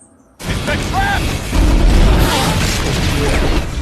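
Gasoline set alight in an action film erupts into a sudden loud blast, followed by a sustained roaring rumble and debris noise that stays heavy for several seconds.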